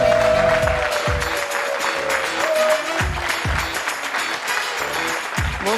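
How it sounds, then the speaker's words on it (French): A French dating-show studio audience applauds for the day's single, producing a dense, loud, sustained wash of clapping that continues throughout, with a faint tonal sound behind it. "Nous allons faire un torrent de bruit, d'applaudissements pour notre célibataire du jour"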